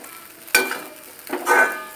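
Crushed peanuts being mixed into potato khichadi in a pan, with two short bursts of scraping and stirring close by over a faint sizzle, no talking.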